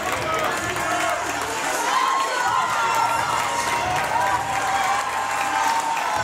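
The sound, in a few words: crowd cheering at a hockey rink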